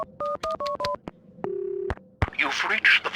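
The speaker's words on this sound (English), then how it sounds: "Can I use your phone? I need to make a call." In the video game Max Payne 2, a telephone handset beeps through a quick series of dialing tones, then a steady dial tone hums briefly before a click, followed by muffled voices and room noise.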